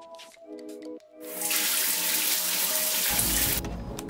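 A home shower is turned on and runs as a loud, steady rush of water after a few quiet clicks and soft tones, with a low rumble joining near the end.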